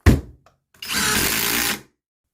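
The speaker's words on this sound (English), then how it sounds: "It's the Skil Procore Power 12 impact driver." A Skil Procore Power 12 compact impact driver gives a sharp knock, then runs in one steady, loud whirring burst of about a second before stopping.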